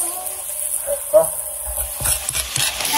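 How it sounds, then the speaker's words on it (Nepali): Onion frying in a pan with ginger garlic paste, a steady soft sizzle with a few scrapes of stirring near the end, close and moderately loud. "पहिला प्याज हालौँ अनि यसलाई हल्का पाक्न दिउँ न अनि पेस्ट पनि हालौँ"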